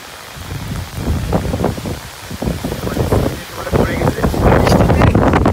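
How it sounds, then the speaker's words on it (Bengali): Heavy rain pours down with gusting wind around trees in an autumn storm, a dense, steady hiss that grows louder toward the end, with someone speaking over it. "প্রচুর পরিমাণে বৃষ্টি নামলো, এখন আর ভিডিও করা যাইতো না হয়তো"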